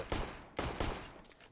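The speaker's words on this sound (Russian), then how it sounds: "Ощущение, что он выстрелил в 4 стекла и разбил только пятое." Rapid bursts of gunfire ring out in Counter-Strike on the Nuke map as shots strike glass panes, with loud, dense cracks that come in two or three close clusters.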